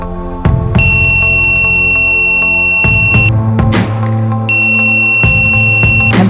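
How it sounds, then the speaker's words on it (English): Continuity buzzer of an ANENG ST212 digital clamp meter, loud piercing electronic beeps switching on and off in several bursts amid clicking probe contacts, with no talking. "Buzzer detection."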